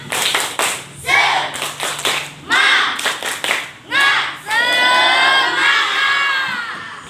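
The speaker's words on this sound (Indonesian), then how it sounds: "kita tepuk semangat dulu ya" Schoolchildren in a classroom perform a 'tepuk semangat' clapping chant, with loud, close bursts of patterned clapping mixed with shouted chanting, ending in a sustained cheer.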